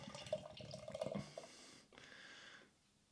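Belgian lager pours from a can or bottle into a glass, a close, steady liquid gush with fizzing that tapers off after about three seconds, no talking.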